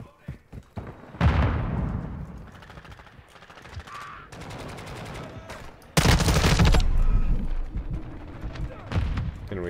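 An LMG fires in Call of Duty: Modern Warfare 2, played in third-person mode, in two loud sustained bursts of rapid automatic gunfire with dense game sound around them.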